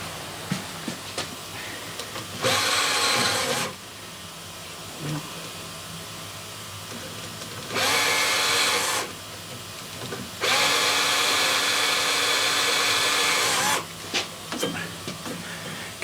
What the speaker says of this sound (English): what I've done is drilled a series of holes on this piece that's still stuck in there